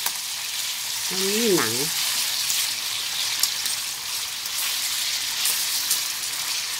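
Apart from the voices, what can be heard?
pork leg frying and splattering in a pan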